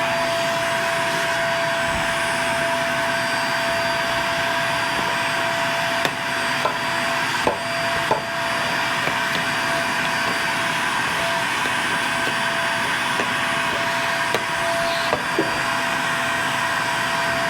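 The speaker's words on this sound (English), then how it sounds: "grab your vacuum again and sweep that side out one more time" A vacuum cleaner hums loudly and steadily, sucking out ash while cleaning a Vogelzang wood pellet stove, with occasional knocks and clunks as the nozzle bumps inside the stove.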